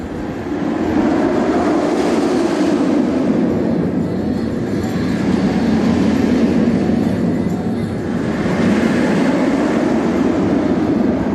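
A loud, steady roaring rumble of the Medusa roller coaster train at Six Flags Great Adventure rushing past, sustained throughout with a deep rolling clatter and no voices.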